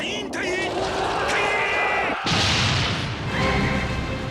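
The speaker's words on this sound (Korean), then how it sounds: "그러자 굉음과 폭발 이어지고" Roaring and explosions from the anime Castle in the Sky, with a sudden heavy boom and rushing crash midway, loud and close, mixed with a narrator's voice.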